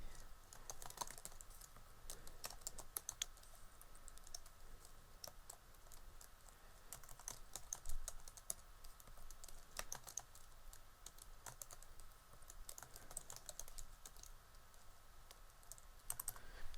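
Steady, fast typing on a computer keyboard while entering names into a Microsoft Excel spreadsheet, with close, quiet clicky keystrokes and no talking.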